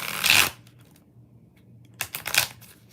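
Tarot cards are shuffled in two quick riffling bursts, close and crisp, with a short pause of near quiet between them.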